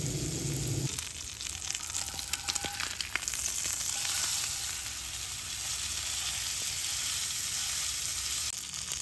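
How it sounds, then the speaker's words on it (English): Steaks seasoned with brisket seasoning sizzle over a campfire at a river ranch campsite, a dense, continuous crackling hiss after a brief low rumble at the start, close and with no voices. "Listen to that sizzle."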